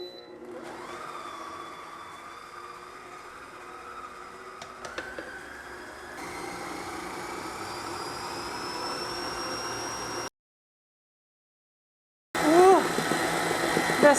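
A Pampered Chef Deluxe electric mixer beats cake batter with a steady motor whine close by, holding constant for about ten seconds before a brief silence and a burst of louder handling noise.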